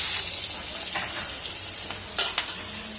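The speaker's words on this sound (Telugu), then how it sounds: "2-3 మినిట్స్ అలా ఫ్రై చేసుకోండి" Onions and curry leaves fry steadily in a pan over medium flame, a continuous close hiss and crackle with a few louder spits near the end and no voices.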